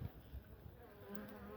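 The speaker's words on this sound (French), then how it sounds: "il y a encore de l'abeille" Bees buzz around a hive, a soft continuous drone with wavering tone close by, quiet overall with low handling noises mixed in.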